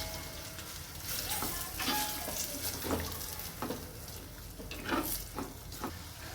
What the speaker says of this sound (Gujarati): હળદરને ધીમા તાપે આપણે શેકાવા દઈશું.